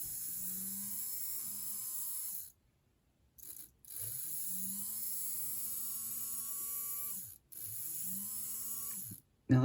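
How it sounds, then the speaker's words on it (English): Small electric motor of an HO scale Varney 0-4-0 model locomotive, freshly oiled, whirring steadily in three separate runs with brief silent gaps between them, each run rising in pitch as it spins up, close and fairly quiet. "that motor actually does seem pretty healthy"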